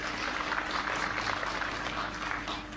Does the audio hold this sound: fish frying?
no